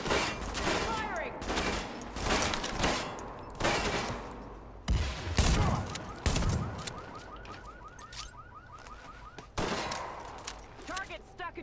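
Gunfire in The Division, loud repeated bursts of automatic fire broken by short pauses across the whole stretch, with a heavier blast in the middle and a rattling chatter underneath; voices talk briefly between the bursts.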